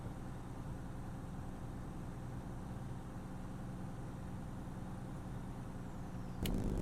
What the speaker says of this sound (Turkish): Böyle bir motor freni var sesi.